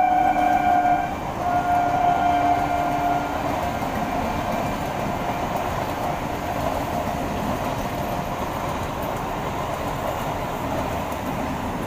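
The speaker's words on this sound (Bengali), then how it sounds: "যে ট্রেনটা গেল এটা কিন্তু রানাঘাট লাইনের ট্রেন" A train on the Ranaghat line rumbles steadily past nearby for the full stretch, with a horn blaring at the start before the continuous wheel-and-carriage roar carries on alone.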